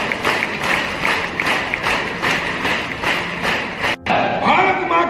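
A crowd at a Bharatiya Janata Party political rally in Harda district clapping together in a steady rhythmic beat, loud and close. The claps break off briefly near the end and then resume, with voices underneath.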